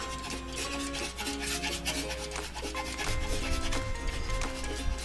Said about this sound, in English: Got some Parmigiano Reggiano that we're gonna just grate right over the top.